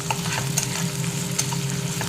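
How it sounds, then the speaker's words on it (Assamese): Onions frying in oil and being stirred in a pan, a steady close crackling sizzle broken by short scraping stirs, with no talk. "এয়া পিঁয়াজখিনি কিছু সময় ভাজি ল'ম মই।"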